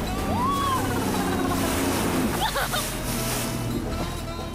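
A motorboat runs across open sea with a steady engine drone, while waves splash and wind rushes loudly close by. A brief voice is audible.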